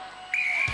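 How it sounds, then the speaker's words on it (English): A referee's start whistle at a 1996 Gladiators UK heat sounds once, a single sustained shrill blast that begins partway through and carries clearly to the end, with a faint low thud at the finish. "Ingrid, you will go on my first whistle."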